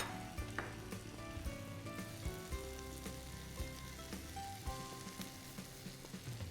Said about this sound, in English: I'm going to add the fresh basil.